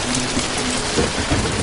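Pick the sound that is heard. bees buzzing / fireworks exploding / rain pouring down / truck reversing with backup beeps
rain pouring down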